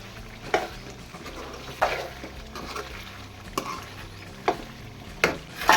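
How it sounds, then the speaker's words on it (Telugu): Mutton curry being stirred in a pot after coriander powder and garam masala go in, with a handful of distinct spoon scrapes and clacks spaced a second or so apart over a low, steady simmering background. "ఒక స్పూన్ ధనియాల పొడి కొద్దిగా గరం మసాలా వేసుకొని మంచిగా కలుపుకుందని"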